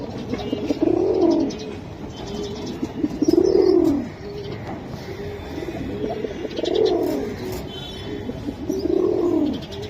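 Giribaz pigeons coo close by in four rhythmic, rolling phrases about two to three seconds apart, with light background rustle and no speech.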